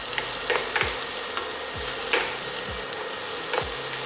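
Minced garlic and onion sautéing in a pan, a steady low sizzle with occasional stirring scrapes and light clinks throughout.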